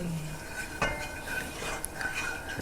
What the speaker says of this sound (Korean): 익는 속도가 다르기 때문에 야채와 버섯을 따로 볶을 거예요.